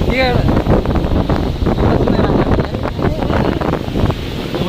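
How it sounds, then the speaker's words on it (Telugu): Big ocean waves crash and surge on a beach, loud and close, with rough wind buffeting the microphone and a person talking over the roar. "మొత్తం పెద్ద పెద్ద అలలు వస్తున్నాయి"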